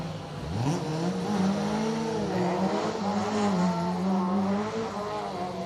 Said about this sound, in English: John Stone making his way round for the final time here at Cadwell